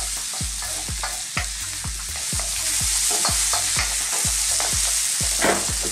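Red chilli is stir-fried in a wok over high heat, with a steady sizzle beneath regular scraping strokes of a utensil against the metal, repeating roughly every half second, close and fairly loud.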